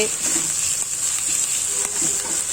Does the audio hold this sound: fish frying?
yes